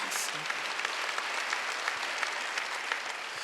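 A church congregation claps during a Wednesday worship service. The applause is a sustained, even wash of many hands, with a brief voice near the start.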